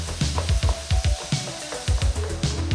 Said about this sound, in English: Now add in the ground beef and ground pork and cook the meats until they're brown